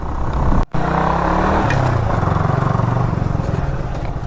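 A KTM Duke 390 motorcycle is ridden along a road, its engine droning loudly and steadily with a pulsing exhaust note, briefly cut out near the start.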